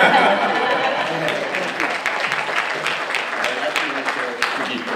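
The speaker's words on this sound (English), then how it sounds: "that's actually your third round of applause" Audience applause at a panel discussion, a steady wash of many hands clapping that slowly thins out, with some talk mixed in underneath.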